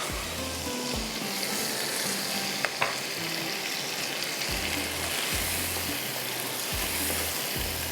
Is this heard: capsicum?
yes